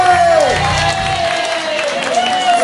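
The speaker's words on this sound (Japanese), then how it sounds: "イエーイ、素晴らしい、拍手。" Audience at a live music session applauds and cheers, a dense wash of clapping with whoops and shouts layered over it, steady and fairly loud throughout.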